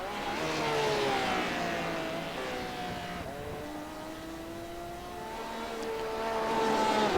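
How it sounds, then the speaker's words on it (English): A sports race car in a Simverse sim racing broadcast at Lime Rock lets off the throttle. Its engine tone sweeps steadily downward, then rises again as it drones on loudly and continuously with no talk. "You can hear him letting off that throttle."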